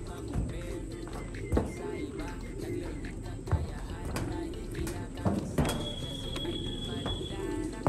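Pigeons, among them a checkered bird, arriving at an outdoor loft, with soft cooing and wing flutters amid steady background noise and people talking.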